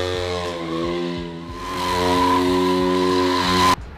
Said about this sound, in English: And the basic burnout, it's actually the first step before you do the rolling burnouts.